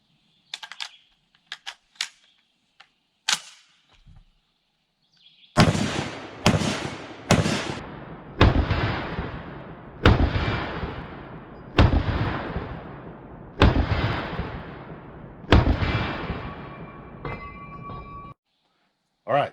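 Eight loud M1 Garand rifle shots ring out one after another at roughly one-second intervals, each a sharp crack with a decaying tail, after a few faint clicks and handling noises at the start.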